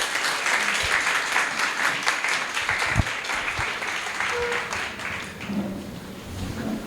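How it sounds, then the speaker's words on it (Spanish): Loud, steady applause from an audience closing a mental health workshop, dense clapping sustained throughout and easing slightly near the end. "Fuertes aplausos para ustedes"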